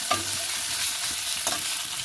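Chopped tomatoes fry with ginger and cumin in a spiced pan for a fish-head mung dal. A steady, close sizzle carries on throughout, with a couple of soft stirring scrapes.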